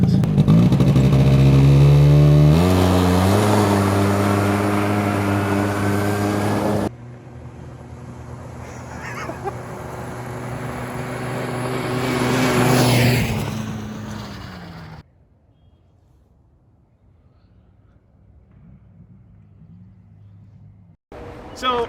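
A 90cc two-stroke Polaris Fury engine mounted on a shopping cart revs loudly up close, then drones and rises as it drives off and returns before fading to quiet, with people talking over parts.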